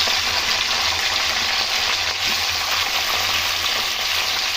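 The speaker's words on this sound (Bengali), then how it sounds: "হাই ফ্লেম দিয়ে ক্যাপসিকামটা ভাজবো" Capsicum halves frying on a high flame for veg chilli mushroom: a loud, dense, unbroken hiss of sizzling oil, steady from start to end, with no voices.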